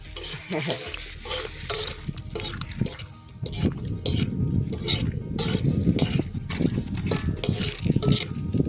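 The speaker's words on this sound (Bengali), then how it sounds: "চলো এবার বাদামগুলো ভেজে নেবো। তেল গরম হয়ে গেছে।" Peanuts frying in hot oil in a pan, with a steady close sizzle and repeated scraping stirs and utensil clatter throughout.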